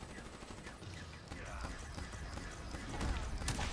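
Rapid gunfire from a Call of Duty Black Ops 3 Zombies match, dense and continuous at moderate level, swelling louder near the end, mixed under excited chatter from players.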